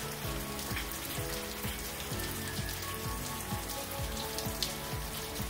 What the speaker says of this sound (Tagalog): naririnig ko yung pagpatak ng ulan